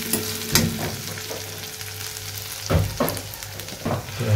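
Onion sizzles in oil in a pan as it browns, a steady close frying hiss with occasional louder stirring scrapes and clatters, and no voices.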